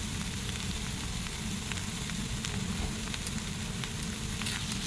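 Kharkol leaves fry in oil in a pan with a steady, continuous sizzle that stays even and fairly close, with no voices.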